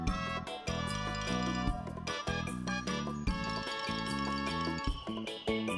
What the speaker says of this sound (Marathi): त्या मंदिराचा घंटानाद ऐकायला येतो